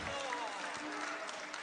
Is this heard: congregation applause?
yes